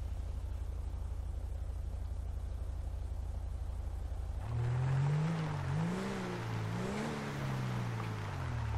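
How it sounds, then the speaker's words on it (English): Car engine in GTA V with the FivePD police mod, a low steady idle hum close by that rises midway into a louder revving, accelerating engine with wavering pitch. "It sounds like there's a car right here."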